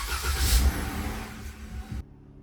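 A Jeep JL Wrangler engine idles during a transmission fluid service, a steady low rumble with broadband mechanical noise that swells briefly early on, close and fairly loud, then drops off sharply.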